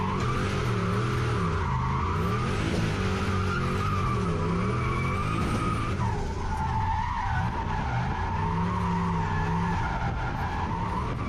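Car tires squeal loudly and continuously as a turbocharged 1UZ V8 Lexus LS400 drifts at a drift day, wavering in pitch over a roaring engine for the whole stretch.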